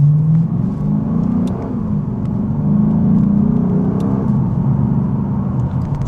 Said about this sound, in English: I definitely want to keep that JDM throaty V8 sound